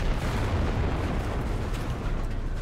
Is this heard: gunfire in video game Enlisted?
yes